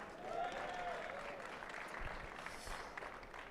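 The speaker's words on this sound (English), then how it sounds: "Round of applause, guys" Applause from a small group of people at a live-streamed congratulations moment, steady broadband clapping across the whole stretch with faint voices underneath.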